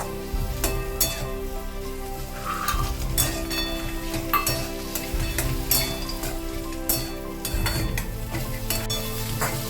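Potatoes and lentil dumplings sautéing in a pan, a continuous sizzle broken by repeated clinks and scrapes of a spatula stirring, close and fairly loud with no voices.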